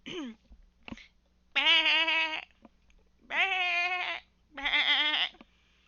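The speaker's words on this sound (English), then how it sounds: "Can you tell me what goes ba ba? That's right, a sheep." Three long, wavering bleats from a sheep, close and loud, spaced apart with quiet gaps and a few short calls before them.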